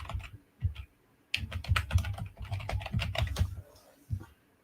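Fingers typing on a computer keyboard, close and crisp: a couple of isolated taps, then a dense burst of quick keystrokes lasting a few seconds, and a final lone click, with no talking.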